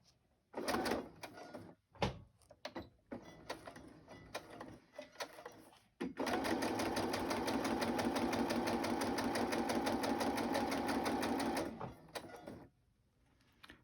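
A sewing machine runs steadily for several seconds after some handling clatter and bumps, its rapid mechanical stitching loud and close.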